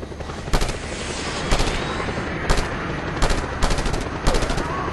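Video game gunfire in Just Cause 2, several sharp bursts of automatic shots spaced irregularly over a constant rumbling background, loud and close.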